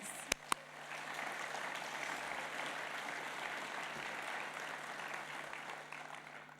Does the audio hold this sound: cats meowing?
no